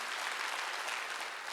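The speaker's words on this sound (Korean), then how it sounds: "박수 치라." A church congregation claps together during a Wednesday worship service, a dense, steady wash of many hands that holds evenly at moderate loudness throughout, with no pauses.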